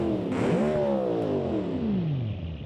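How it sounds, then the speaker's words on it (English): A car engine in the BeamNG driving simulator revs up sharply, holds a high whine, then slowly winds back down, loud and continuous with no voices over it. "let's just listen to this engine"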